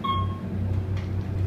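A basic Otis hydraulic elevator, series M2 fixtures with 2,500-pound capacity, gives one short high electronic beep at the very start, followed by a steady low mechanical hum of the cab.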